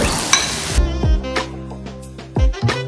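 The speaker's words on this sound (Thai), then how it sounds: "ผัดข้าวกับกุ้งนะคะ" Rice being stir-fried in a pan with blanched shrimp and carrot: loud sizzle at first, then sharp scraping strokes of a spatula at irregular intervals, close up and without talk.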